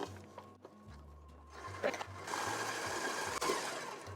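A stand mixer whirs as it beats chocolate chip cookie dough, a close mechanical drone with rhythmic knocking of the beater and a brief clatter near the end.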